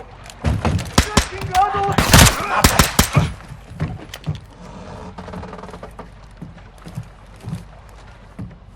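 Bursts of gunfire from Call of Duty Modern Warfare ring out near a barge on water, a rapid cluster of loud sharp shots followed by scattered fainter cracks and mechanical clatter, with someone talking intermittently over the action.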